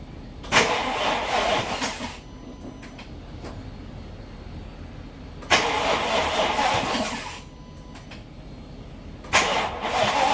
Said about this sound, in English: I haven't tried starting it yet, so we're going to do that right now.